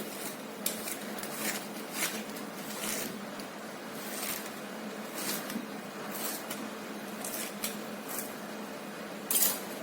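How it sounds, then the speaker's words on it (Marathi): A knife finely chops cleaned taro (colocasia) leaves on a board, giving a string of crisp, close cutting taps in an irregular rhythm. The taps are fairly soft, and one sharper knock comes near the end, with no talking. "त्यांना आपण बारीक छान चिरून घेऊ"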